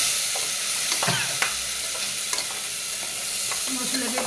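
Spices and tomatoes fry in a pan under a continuous close sizzle, with a utensil stirring and scraping in intermittent clicks and knocks.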